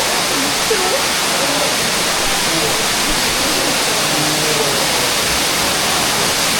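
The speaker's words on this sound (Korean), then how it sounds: "폭포가 있습니다." Waterfall inside a lava cave on Jeju, a steady broadband roar of falling water filling the whole stretch, with faint voices underneath.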